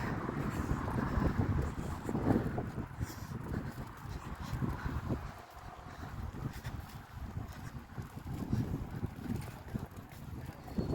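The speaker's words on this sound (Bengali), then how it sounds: "প্রচুর বাতাস বাতাসে আমি হাঁটতে পারতেছি না আমাকে উড়াই নিয়ে যাচ্ছে" Strong wind blowing outdoors in Italy under a cloudy sky, gusting hard against the microphone as a rough, buffeting roar that swells and eases over several seconds.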